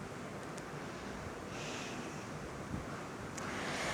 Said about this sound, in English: imagine the sea with waves rising high